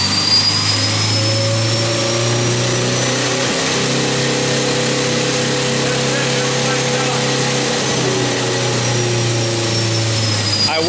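A car drivetrain spun up on jack stands toward a 5,000 RPM limit, a loud, steady mechanical whine and hum with tones that shift in pitch midway, close and continuous throughout.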